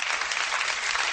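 Studio audience applause during a comedy talk show, a brief burst of dense, continuous clapping, loud and even throughout with no voices.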